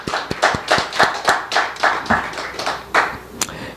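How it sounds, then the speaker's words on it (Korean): A church congregation claps in rhythmic unison, about a dozen crisp, evenly spaced claps close by and fairly loud, with no voices over them. "우리 축하의 박수 올리겠습니다"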